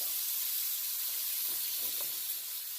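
Ground beef for cheeseburger macaroni sizzles and fries in a pan with seasoning, a soft steady hiss with faint stirring scrapes, no talk.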